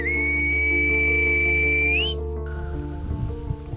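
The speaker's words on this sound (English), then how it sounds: "speakers there can communicate in a variation of Spanish composed entirely of whistling" A single sustained, high, clear whistled tone of Silbo Gomero, the whistled Spanish of the Canary Islands, holds steady for about two seconds and then slides upward and cuts off, leaving a low background bed.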